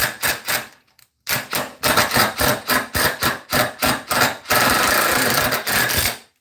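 A DeWalt impact driver hammers slowly through steel in loud, rapid bursts of rattling impacts, stopping briefly, resuming in a string of short pulses and ending with one sustained stretch.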